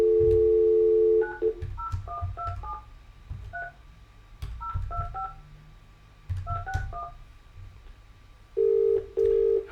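A phone system calling a Brighton number through a CRM switchboard: a ringback tone opens, then three quick clusters of keypad dialing beeps, and the ringing tone returns near the end. No voices.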